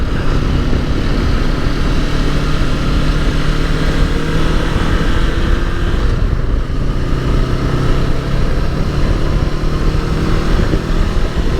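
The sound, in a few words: Honda NX500 motorcycle engine while riding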